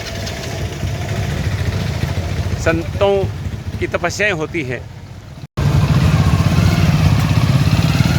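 A motorcycle engine idles steadily and loudly throughout, with a voice speaking over it partway through and a brief cut before the engine rumble resumes.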